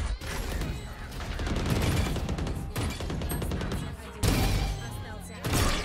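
Gunfire crackles in a ranked online video game, with dense bursts of rapid shots and crashing impacts, loud and continuous with brief pauses, while players talk over the noise.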